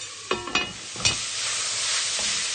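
A spoon scrapes and stirs through food in a sizzling pan while cooking a deconstructed lasagne, a few distinct clacks early on over a continuous soft frying hiss, close and without voices.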